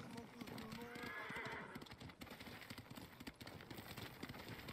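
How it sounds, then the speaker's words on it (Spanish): Horse hooves clip-clopping in the video game Ghost of Tsushima, a rapid, steady patter of hoofbeats with a faint whinny early on, heard beneath someone speaking over the game. "Vamos a llamar al caballo."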